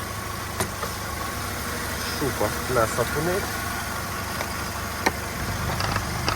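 A Volkswagen Golf Plus 1.6 MPI petrol engine with automatic transmission runs steadily at idle with a low even hum, while someone talks over it and faint clicks and knocks sound now and then.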